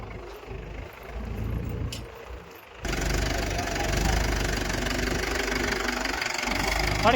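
A tractor engine running a thresher chugs with a steady knocking idle, close by, growing louder and rougher partway through.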